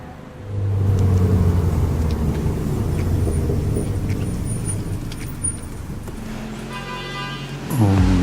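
A new Alpine car drives on a short test track at the Dieppe factory, its engine rumbling steadily and fairly close, with a brief horn-like toot near the end.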